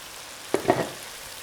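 Onions and tomatoes frying in a pan for vegan tomato and onion baked beans: a soft, steady sizzle with a brief scraping stir in the middle, close and without talk.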